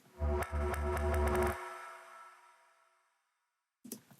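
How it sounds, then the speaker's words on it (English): A deep, heavily processed bass sample pulses loudly for about a second, then dissolves into a long washy reverb tail before a short burst returns. "added a wacky sort of reverb to it, a wacky delay, and then reverse that sample"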